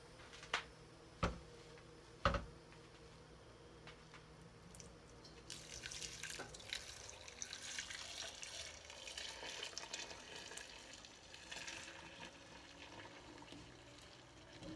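A big pot of soybean mixture is poured through a strainer and milk bag, opening with a few sharp knocks and clanks before a quiet, uneven pouring and splashing of liquid that trickles on for several seconds.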